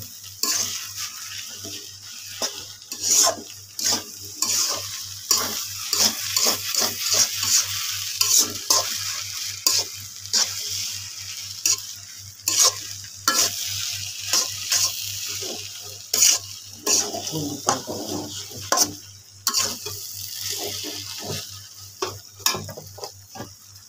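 Spices are stirred into food frying in a pan: brisk, rhythmic scrapes and clatter of a spoon against the pan ride over a continuous sizzle, close and loud, with a low steady hum beneath and no voices.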